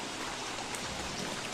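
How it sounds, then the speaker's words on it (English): Steady rain in the video game Don't Starve, a dense, even hiss of falling drops with no voices. "Even though it's still fucking raining."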